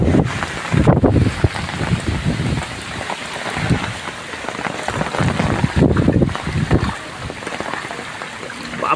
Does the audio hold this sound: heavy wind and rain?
yes